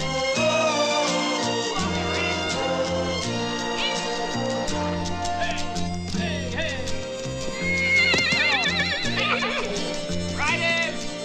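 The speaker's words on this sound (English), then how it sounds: "Look out, Red, that horse put shit on you." A horse whinnies in a shrill, wavering call over music and bustling background noise, with clopping and other animal sounds mixed in.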